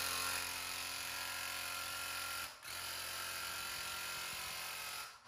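A Graco True Coat 360 DS airless paint sprayer motor runs in prime, a steady whirring mechanical drone held for several seconds with one brief dip, faint and unvoiced.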